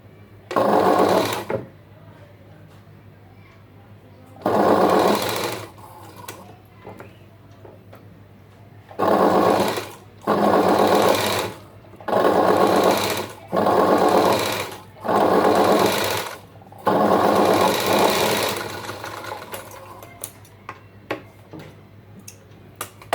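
A sewing machine stitching lace onto a blouse runs in about eight loud, close bursts of rapid mechanical whirring, separated by short quiet pauses.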